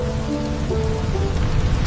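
Steady rain drums on the roof of a van during a rainy-day trip, a dense, even patter that stays close and constant, with a low rumble underneath and no voices.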